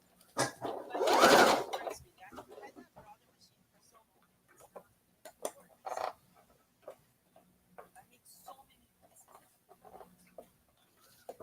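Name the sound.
Brother sewing machine stitching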